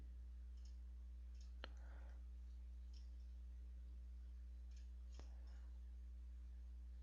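A few faint, sharp clicks of a computer mouse while lines are selected in CAD software, isolated and quiet over a low electrical hum.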